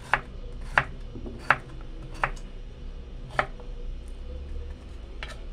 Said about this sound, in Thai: ยายว่าจะไม่ปอกแล้วอุ้ยปอกดีกว่าเลยปอกชิ้นเล็กชิ้นใหญ่แล้วแต่เพื่อนๆเลยนะ